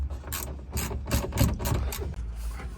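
Ratchet cracking loose screws on a Toyota Land Cruiser 75 Series, a close series of sharp clicking bursts in an uneven rhythm.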